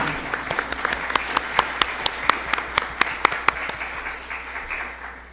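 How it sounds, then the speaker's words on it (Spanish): Audience applause at a book launch on youth and emotional resistance, steady dense clapping with sharper individual claps standing out, sustained throughout and slowly fading toward the end. "Un aplauso, por favor."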